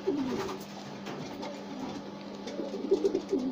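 Pigeons at an allotment garden coo softly and repeatedly, with low throaty calls clustering near the end over quiet outdoor background.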